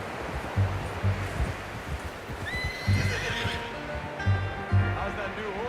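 Horse in the video game Red Dead Redemption 2 giving a clear whinnying neigh over steady clip-clop hoofbeats, near and moderately loud, with outdoor rustle in the background.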